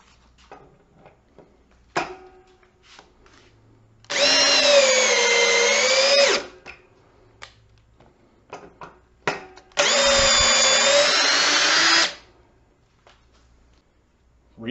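A refurbished Ridgid cordless drill in drill mode at speed 2 on a 4 amp hour battery, running in two loud whining bursts of about two seconds each, with quiet clicks and handling sounds between.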